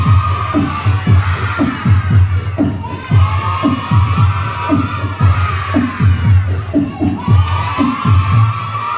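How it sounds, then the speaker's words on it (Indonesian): Children at an Islamic madrasa religious gathering clapping and shouting together, a loud, energetic burst of rhythmic group clapping mixed with cheering voices, sustained close by throughout. "Tepuk tangannya nggak semangat, tepuk tangan sambil teriak."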